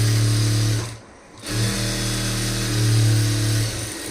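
A sewing machine runs steadily, stitching lining blouse fabric, with a continuous motor hum that pauses briefly near one second before resuming at an even, close pace.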